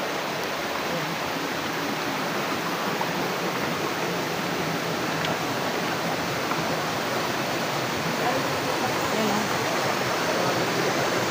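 Waterfall at Tanaun Falls with clear water and bathing spots, a steady, loud broadband rush of falling water that fills the whole stretch without pause.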